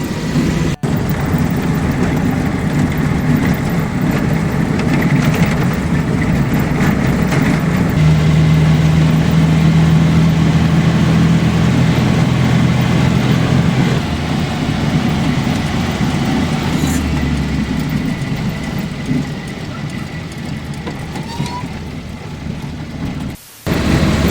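A truck engine runs steadily while driving on the way to a scrap metal collection point, a loud continuous low rumble with a brief harder hum midway and a short dropout near the end.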